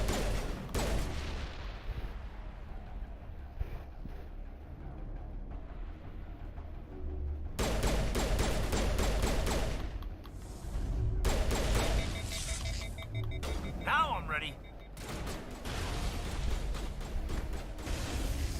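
Turret gunfire in the Mass Effect video game, dense rapid bursts of shots with mechanical whirring and booms, loud and continuous for most of the stretch, layered over game sound effects.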